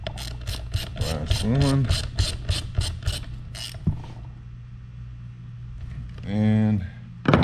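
A hand ratchet tightens the hub bolts on a Onewheel+ XR board, giving a rapid, close train of about a dozen sharp clicks, then a pause and a second short burst of clicking. A person speaks briefly between the bursts.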